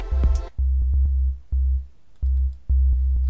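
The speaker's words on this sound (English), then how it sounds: "It's just a random MIDI pattern at the moment with a synth" Synth in Ableton Live playing a random MIDI pattern: short, sharp plucked notes over a deep sustained bass tone that cuts in and out in an uneven rhythm, clean and fairly loud, no voices.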